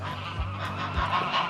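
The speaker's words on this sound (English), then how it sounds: "There's those noisy geese." Several geese honk repeatedly nearby, their nasal calls overlapping in a noisy, irregular chorus.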